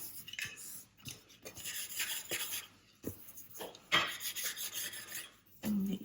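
Smoothers rub over sugarpaste edges on a cake board, making close, soft scraping and rasping strokes in irregular bursts with short pauses between, and no talking.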